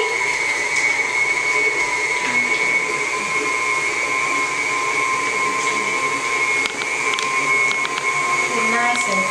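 An electric mixer whirs steadily as cake batter is mixed up in a bowl until creamy, a constant high motor drone with faint scraping against the bowl throughout.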